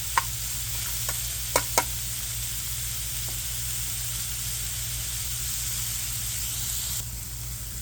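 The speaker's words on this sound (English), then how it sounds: "we're just going to sweat these down" Mushrooms and onions sweat in a pan with a steady, even sizzle and soft hiss throughout, broken by a few faint clicks near the start.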